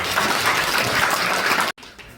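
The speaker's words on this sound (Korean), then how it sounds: "우리 권략동 안전을 위해서 야간에 순찰을 비롯해서 여러 가지 활동을 벌이고 있는 자율방범대에 위해서 박수 한번 보내드립니다" Applause for a volunteer neighborhood night patrol group at a community gathering, a dense steady wash of clapping from a crowd that cuts off abruptly near the end, leaving quieter room noise.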